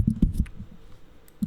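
Several quick, muffled thocks come from a lubed mechanical keyboard's backspace key being pressed close up. A cluster of presses is followed by a pause, then one more press.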